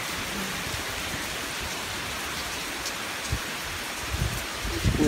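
Rain falls steadily during a hike in Percy Warner Park, Nashville, a dense even hiss of drops on leaves and ground, close and continuous, with a few heavier pattering hits near the end.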